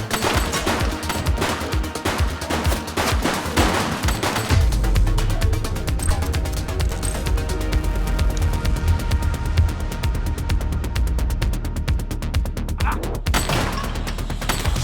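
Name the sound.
gunfire in video game The Precinct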